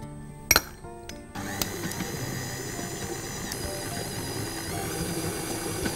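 Sugar, flour, baking powder, butter and cocoa for chocolate sablé cookies are mixed together: a couple of sharp clinks against a bowl, then a steady mechanical whirring that runs on evenly at moderate volume.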